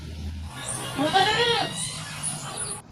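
A goat bleats in a short wavering cry amid outdoor village commotion tied to sacrificial qurban meat, with people talking faintly in the background.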